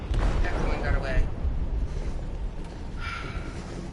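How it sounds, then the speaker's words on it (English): An explosive goes off in a ship's hold in Detroit: Become Human, giving a deep rumbling blast and booming low roar that runs throughout, with scattered crackles and voices over it. "They detonated an explosive in the hold."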